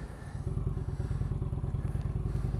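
An Indian Chieftain motorcycle with Samson Stage 1 exhaust pipes idles and rumbles close by on a test ride, a loud, deep, evenly pulsing V-twin throb that holds steady throughout.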